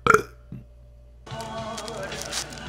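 Girl burping: one short, loud belch at the start, a small faint sound after it, then a longer rough, gurgling burp that trails on to the end.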